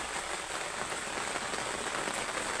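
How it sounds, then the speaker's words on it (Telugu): Steady, dense rain pours onto a surface nearby at a Shiva temple, a constant hiss of drops with no pauses. "ఇంత వాన కూడా వచ్చినాం ఫ్రెండ్స్"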